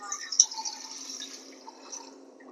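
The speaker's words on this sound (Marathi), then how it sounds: "पाणी टाकूया." Water poured into a pan of chicken jhanjhanit curry, a brief splashing, trickling pour with a few drips, quiet and close, lasting about two seconds.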